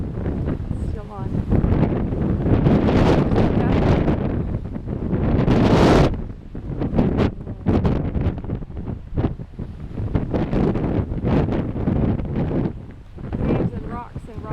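Strong gusts of wind batter the microphone on sea cliffs at Depoe Bay, roaring in loud surges and lulls, with surf faintly beneath and people talking at times.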